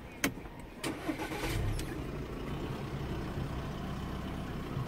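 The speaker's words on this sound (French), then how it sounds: "On va remettre le moteur vite fait." A 2009 Audi Q5 engine is started again after a stored engine fault code is cleared, with a suspected faulty lambda sensor. A faint crank is followed by a quiet, steady idle rumble, with no talking.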